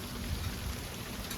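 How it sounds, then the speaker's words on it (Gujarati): Steady rain falls outdoors near a temple, a dense, even hiss of drops pattering on surfaces with no pauses, moderately loud throughout. "ચાલો જો વરસાદ થઈ ગયો"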